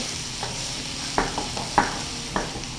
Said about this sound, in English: I hear them sizzling and calling our name